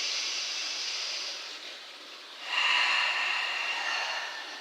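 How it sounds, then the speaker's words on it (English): Deep breathing during a yoga session: a long, airy exhale, a brief quiet pause, then a strong, full inhale-like breath that gradually fades, heard close and alone without talking. "Deep inhale, deep exhale."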